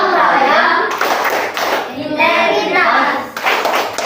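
A classroom of children clapping hands together during a teacher's performance-test lesson, a dense burst of many claps that swells and dips across the whole stretch, with some children's voices mixed in.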